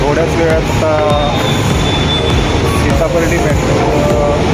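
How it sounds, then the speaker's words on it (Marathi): A Nagpur metro train pulls into Sitabardi station, rumbling loudly with wheel squeals and rail clatter, and a background voice is heard under the train noise. "सीताबर्डी मेट्रो येण्याची वाट बघत आहे"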